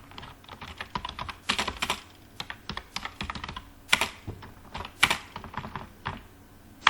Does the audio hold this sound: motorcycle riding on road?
no